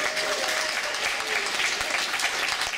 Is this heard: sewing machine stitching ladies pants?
no